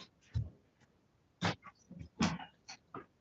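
A dog barks in a home in a few short, separate bursts with quiet gaps between them, heard fairly close and alone with no talk.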